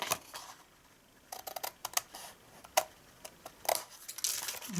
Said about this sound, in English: Cut this corner out.